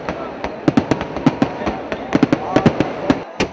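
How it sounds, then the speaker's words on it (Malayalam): Fireworks at the Nenmara Vallangi Vela temple festival in Kerala crack off in quick irregular bursts, sharp loud reports repeating over a steady crowd-like rumble. "വെടിക്കെട്ടിൻ്റെ ആദ്യഘട്ടം വൈകുന്നേരമാണ്."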